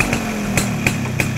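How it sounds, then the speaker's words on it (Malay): Two-stroke motorcycle engine running steadily close by, a continuous buzzing drone with regular sharp pulses. "Korang dengar sendiri enjin dia."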